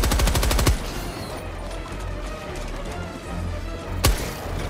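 Bursts of automatic gunfire in the video game Helldivers 2 as a player shoots eggs, with a sharp volley at the start and another near the end over steady combat noise and a speaking voice.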